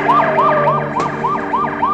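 Police siren wailing loud and near in a steady repeating up-and-down sweep, with a brief extra burst midway and a rumbling vehicle underneath.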